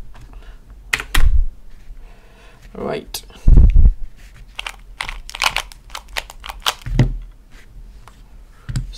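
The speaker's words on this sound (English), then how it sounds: "enter time by typing." Quick keyboard taps clatter in irregular bursts close by, entering a Rubik's cube solve time, with a short spoken word and a couple of louder knocks mixed in.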